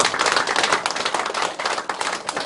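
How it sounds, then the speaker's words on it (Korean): Sustained applause from an audience at a political launch ceremony and meeting held in a church hall, dense clapping steady throughout with no speech over it. "박수로 서로 한 번 더 격려해 주시기 바랍니다."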